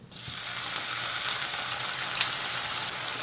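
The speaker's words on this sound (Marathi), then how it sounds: "आपले ड्रायफ्रूट्स आता भाजत आलेले आहेत" Dry fruits roast in a hot pan with a steady, close sizzle and faint crackling. Light scrapes and clicks of stirring sit on top, and no voices are heard.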